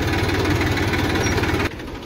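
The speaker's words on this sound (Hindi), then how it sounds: "तो फ्रेंड्स, ये ट्रैक्टर अनलोड हो रहा है।" A tractor engine runs close and loud while the tractor unloads soil, a steady throbbing idle that drops abruptly in level near the end.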